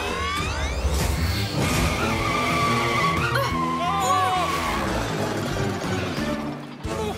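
A cartoon runaway turbo tire races and skids in a continuous, loud rush of revving, squealing motion layered with tonal whines and busy effects, running without a break for about seven seconds.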